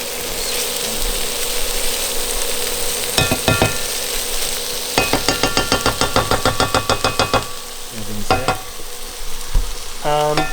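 A Korean tofu soup base cooking down in a pot, with a constant sizzle and bubbling under rapid bursts of metal utensil stirring and knocking against the pot.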